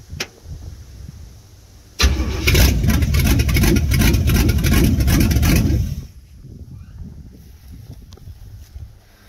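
A classic car with a rebuilt 355 motor and a 350 Turbo transmission cranks and fires, roaring loudly for about four seconds before dropping back to a quieter, rumbling idle.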